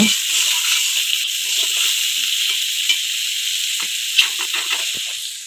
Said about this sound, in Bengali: মা এখন পেঁয়াজ রসুনটা ভেজে নিচ্ছে